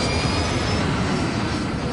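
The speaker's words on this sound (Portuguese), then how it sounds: "A tripulação consegue potência para os motores nas asas." Jet engines mounted on the wings of an American Airlines jet spooling up, a steady loud broadband roar with a faint high whine running through it, continuous and close with no talk.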